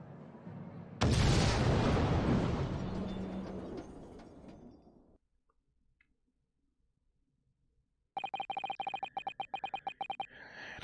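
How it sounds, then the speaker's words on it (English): A huge explosion from the Great Ace Attorney 2 game, with a sudden loud blast that rumbles and fades over several seconds. After a near-silent pause, a rapid mechanical ticking starts up. "The enormous explosion that ripped through the experimentation stage at the Great Exhibition."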